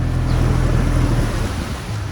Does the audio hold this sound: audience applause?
no